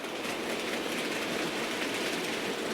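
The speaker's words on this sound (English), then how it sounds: "the locomotive is running absolutely fine as we've slowed it right down" A Hornby P2 R3440 model locomotive running slowly on repaired track, giving a steady, close whirring rumble of motor and wheels with a faint rhythmic rattle and no pauses or voices.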